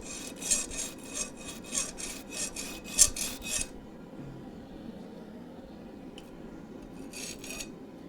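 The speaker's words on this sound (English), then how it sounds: "I'm gonna have to grind most of this off with this file." A hand file rasps across a forged knife blade in a quick run of about a dozen close, rhythmic strokes, then quiet room tone with a few faint scrapes and a short final burst of filing.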